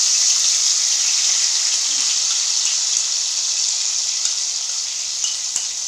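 Finely ground onion and tomato sizzle steadily in hot oil for pav bhaji, a loud, even frying hiss that carries on without a break, broken only by a few faint ticks and pops.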